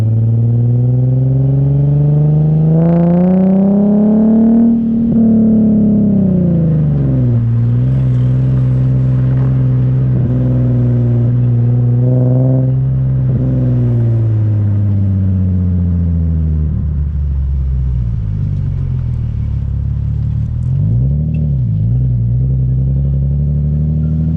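Nissan 370Z sports car accelerating hard, its engine loud and close as the pitch climbs through the gears, with a brief dip at each shift before rising again.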